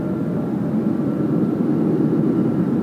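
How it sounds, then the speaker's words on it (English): A Cathay Pacific Boeing 777 on its night takeoff roll at Sydney Airport: a loud, continuous low jet roar that holds steady throughout, heard from a distance with no talk. "Nice healthy takeoff roll and some beautiful sounds from the Cathay Tripler."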